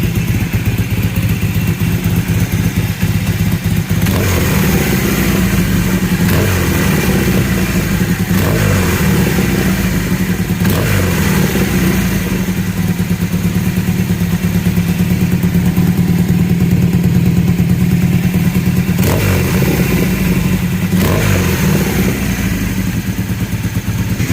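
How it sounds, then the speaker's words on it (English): A restored Kawasaki KZ 750 B4 motorcycle runs loud and close with a continuous throbbing idle, rising into several brief revs before settling back, and no voices over the engine. "I'll give it a little rev."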